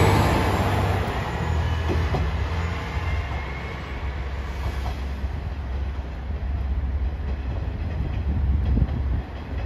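A JR Shikoku 1500 series diesel railcar runs at Tokushima Station in snowy conditions: a steady low rumble of engine and wheels on track holds throughout, with faint clicks of rail joints and no talk.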